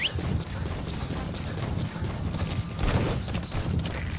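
Horse hooves clip-clop at a steady trot in Metal Gear Solid V: The Phantom Pain, a continuous close rhythmic patter of hoofbeats with a faint mechanical ratcheting underneath, running throughout with no talk.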